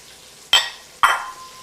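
Onion, carrots and pepper sizzle in a hot pan as a utensil stirs them, two sharp scraping bursts followed by a sizzle that dies away, close and fairly loud, with no talking.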